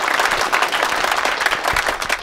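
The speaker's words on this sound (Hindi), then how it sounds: "ताली बजाओ।" Applause breaks out in a room during a Hyderabadi comedy film scene, dense steady clapping from a small group filling the moment, close and fairly loud with no talk over it.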